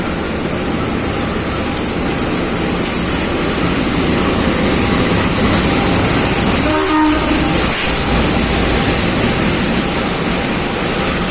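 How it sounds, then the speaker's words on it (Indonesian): Sri Tanjung passenger train from Ketapang to Lempuyangan pulling into platform 6, a loud, continuous rumble of wheels and carriages close by, with a brief horn-like tone partway through. "Dan ini jalur 6 masuk kereta api Sri Tanjung."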